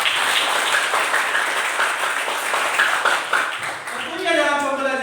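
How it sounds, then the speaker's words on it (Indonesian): A class of students claps their hands together in a steady burst of applause that fades out near the end as a voice begins speaking. "tepuk tangan dulu."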